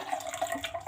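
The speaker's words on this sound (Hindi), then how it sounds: "जग में हम पानी डाल के इसको हिला लेंगे ताकि हमारा जग जो है वो भी वॉश हो जाएगा" Water splashes and sloshes inside a jug, swirled around to rinse it while making a refreshing iftar drink, a short burst of close, busy liquid noise.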